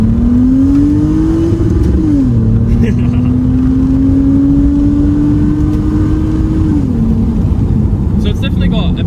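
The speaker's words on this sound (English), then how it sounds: "This thing sounds awesome when you hit the limiter" A 2008 Lexus IS250 engine revs hard and steadily toward the rev limiter, holding a high drone before a quick drop and another sustained climb, loud and close from inside the cabin under road noise.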